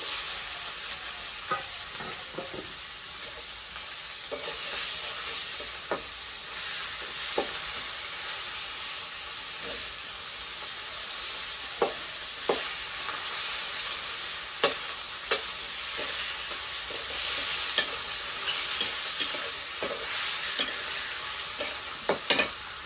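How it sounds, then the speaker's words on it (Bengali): Chopped onion sizzles steadily in hot oil for a taro fry, with scattered sharp clicks and scrapes of a spatula against the pan across a continuous frying hiss. "আর এইগুলো দিয়ে এগুলো কচু ভাজি করবো, ওইগুলো নামাম না, পেঁয়াজ কুচি দিয়ে দিই"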